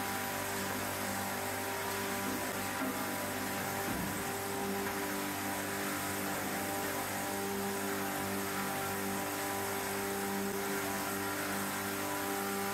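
A Woodlandia LL-41.600 log lathe milling a log into a dowel, with a continuous droning motor hum and steady humming tones layered over a broad grinding noise, unchanging throughout.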